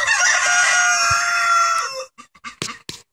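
A rooster crows one long, loud call up close, then a few short clucks follow in quick bursts.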